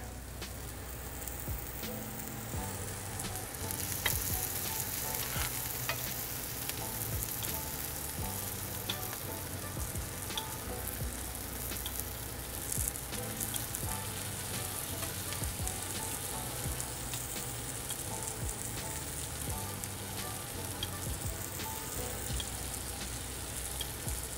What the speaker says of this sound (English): And now we're gonna butter base the pork.